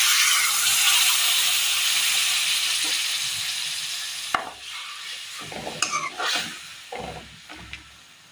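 Kerala curry with coconut milk in a pan gives a steady, loud hiss of bubbling and steam, which fades into softer simmering broken by a few scrapes and clinks of stirring.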